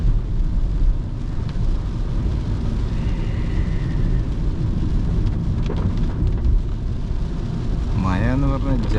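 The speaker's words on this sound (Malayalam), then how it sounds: "മഴ എന്ന് പറഞ്ഞ ജാതി മഴയല്ലേ." Heavy rain pours steadily on a Hyundai i20 during a night drive, a loud, unbroken wash of noise mixed with road and engine rumble. People talk inside the car over it.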